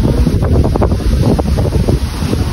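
Strong wind buffets the microphone in a constant, rough roar with gusty surges, loud and close, no voices.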